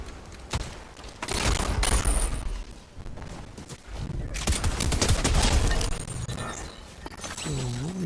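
Fortnite gunfire in bursts and sustained volleys of rapid shots across the match, loud and dense with a few sharp single cracks, with other game sounds mixed in.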